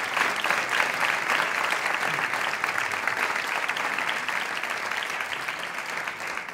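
A gala audience at the ANOC awards applauds steadily for several seconds, a dense, sustained wash of clapping from a large crowd that holds an even level throughout, with no talk over it.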